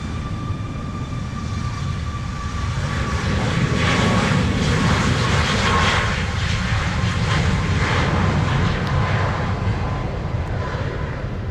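An American airliner on final approach to runway 07 at Montego Bay, Jamaica, roars loudly and steadily overhead, its broad engine rumble swelling to a peak and holding.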